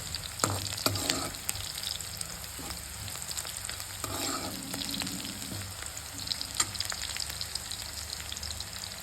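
Onions frying in a pan for a quick bachelor-style chicken fry, a steady broadband sizzle throughout with occasional stirring scrapes and spatters, close and moderately loud, no voices.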